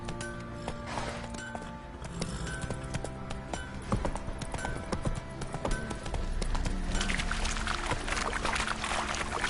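Hoofbeats of the horse Roach gallop in a video game, a steady rhythmic clip-clop over a rushing ambient bed that swells toward the end.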